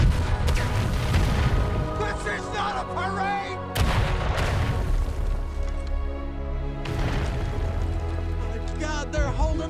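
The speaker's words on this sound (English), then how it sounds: "Give them everything you've got! Fire! Fire!" Heavy artillery cannons in a war-film battle boom in a few loud, separated blasts, each followed by rumbling decay, amid shouting voices and battlefield clamor.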